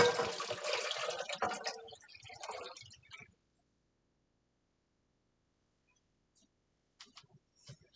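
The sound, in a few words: water being poured or filled, eight cups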